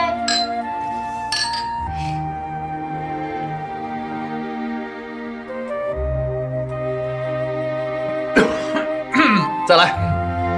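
Drinking glasses clink together in a toast at a dinner table, with a few sharp chimes near the start and again near the end while people talk throughout.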